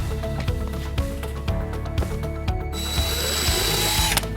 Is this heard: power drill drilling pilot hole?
yes